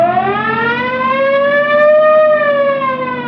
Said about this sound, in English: You want to hit the siren?